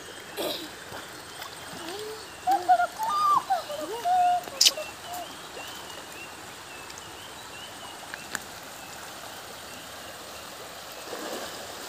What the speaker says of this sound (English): शांतता ठेव आणि बर्डचा आवाज ऐक आणि स्विम कर